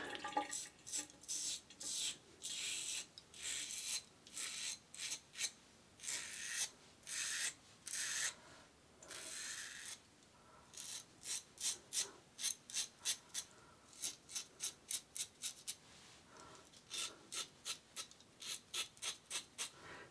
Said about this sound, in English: Now, Yates Titanium Merica razor with a second use feather blade.